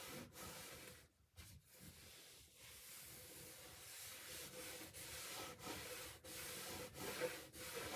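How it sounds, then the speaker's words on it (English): A soft cloth rubs petroleum finish into a wooden cabinet, making faint, close, rhythmic swishing strokes with short pauses between passes and no talk. "Take a clean, soft cloth and just rub it in."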